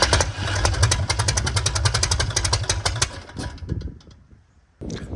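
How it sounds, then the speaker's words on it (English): A homebuilt aircraft's engine, fitted with Hall effect sensor ignition, runs with rapid firing pulses and a steady low drone for about three seconds, then winds down and cuts out before a brief burst of noise returns at the end. "getting ready for the first engine start"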